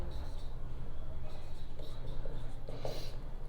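Marker scratching on a classroom board during a chemistry lesson, soft continuous squeaky strokes with brief pauses, close and fairly quiet over low room hum.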